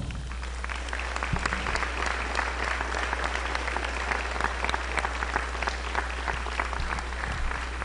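An auditorium crowd at a high school academic awards ceremony in Barren County gives a steady, even round of applause for award recipients' parents, heard from a distance over a low electrical hum, with no talking.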